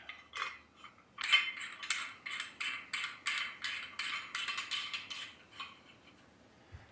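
The adjustment nut on a Tac9er survival shovel is tightened, giving a rapid series of close metallic clicks and ratcheting scrapes in quick rhythmic bursts, with no talking.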